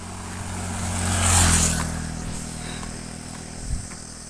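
A motorcycle passes on a road, its engine swelling to a broad peak midway and then fading, with a brief second engine note near the end, heard outdoors with no talking.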